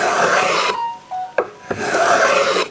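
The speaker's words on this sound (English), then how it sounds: "The chamfer's good, and again, opposite chamfer, just running the blade up the wood" An ENJOYWOOD mini block plane chamfers a wooden edge in two long, loud, close rasping strokes, separated by a short pause with faint knocks and a brief tonal squeak, and no talking over them.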